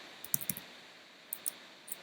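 Sparse keyboard typing, a few quiet clicky key presses in small bursts with pauses between, close by over a low steady room hiss.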